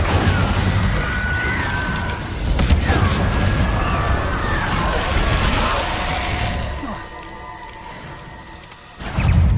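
A fire spell being cast in the Hogwarts Legacy video game gives a loud, sustained fiery blast with booming, crackling bursts over dense game ambience, brief sharp impacts near the start and end, and no talk.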